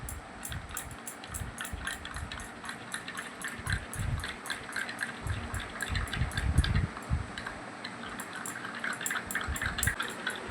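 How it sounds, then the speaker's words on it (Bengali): Turmeric powder and other remedy ingredients are mixed in a small bowl with a spoon. Soft, wet, rapid clicking and squelching of stirring continues throughout at a low level. "এবার আমি ভালো করে সমস্ত উপকরণ মিশিয়ে নেব"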